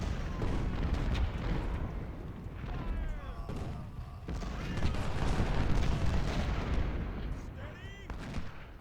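Musket volleys and artillery fire rumble through a Civil War battle at Gaines' Mill in the Ultimate General: Civil War video game, dense crackling gunfire and booms rolling continuously under a talking voice.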